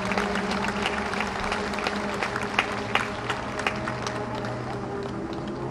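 An audience at an outdoor gathering of flower enthusiasts in Alūksnē, Latvia, claps steadily throughout, a dense, even wash of applause at moderate distance with a few sharper individual claps standing out.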